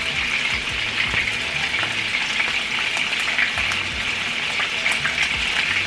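Meatballs fry in a pan, giving a continuous, even sizzle with soft popping, close and steady throughout without talk.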